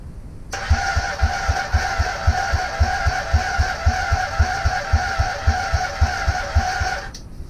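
A Honda Superdream motorcycle engine is cranked at full throttle, running as a steady loud drone with a rapid, regular pulsing thump from start to finish, and no voices are heard.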